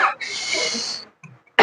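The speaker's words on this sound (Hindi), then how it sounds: "खांसी कहाँ हो गया?" A single harsh cough sounds up close, followed by a quiet breath and another short burst at the end.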